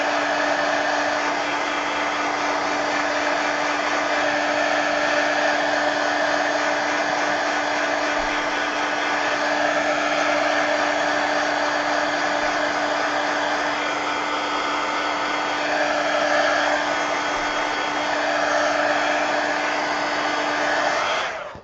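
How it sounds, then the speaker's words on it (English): A heat gun drying paint on a napkin craft page blows a loud, steady whir that runs unbroken for about twenty seconds and cuts off sharply at the end, with no voice over it. "let me get my heat gun here and dry this"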